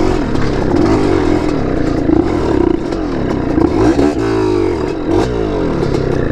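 A Yamaha TRI-Z 250 three-wheeler rides in first gear on sand dunes, its engine revving loud and close with a rough buzzing drone and shifting pitch, alongside clattering and scraping.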